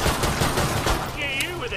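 Gunfire from Killing Floor 2, a pistol fired in a burst of quick shots up close, loud and dense throughout with the game's busy action mixed in.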